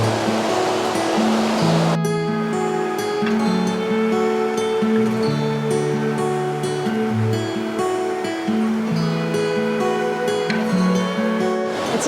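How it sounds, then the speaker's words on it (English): A glacial river near Mount Baker rushes in a continuous loud roar of turbulent water, soon joined by music playing over it. "It's his first glacial river."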